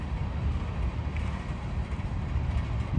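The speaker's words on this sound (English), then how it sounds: "it looks like a mixed manifest Norfolk Southern train going westbound on the Canadian National Freeport subdivision" Westbound Norfolk Southern mixed manifest freight train passing on the Canadian National Freeport subdivision near Berwyn, a continuous heavy low rumble with steady broadband rolling noise and no voices.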